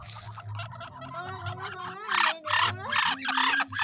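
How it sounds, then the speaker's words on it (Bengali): Peri ducks at a village home give a burst of harsh, repeated gobbling and quacking calls that grow louder and more insistent toward the end, with no talking over them. "এই হাঁসগুলোকে বলে মানে পেরি হাঁস"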